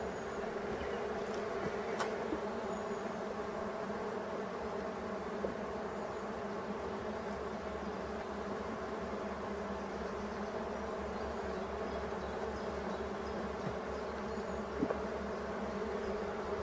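Honeybees buzz at an opened Dadant hive in a forest, forming a dense, continuous drone that stays steady and close the whole time, with a few faint knocks and no talk.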